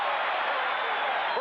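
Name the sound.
football crowd at Shea Stadium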